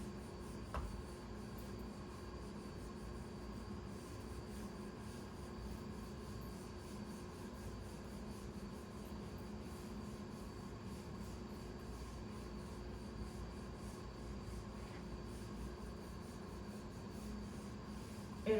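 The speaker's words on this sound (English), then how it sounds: "So I have to erase this." An eraser rubs across a board in a long, steady scrubbing that barely changes. The sound is quiet and close, with no talk over it.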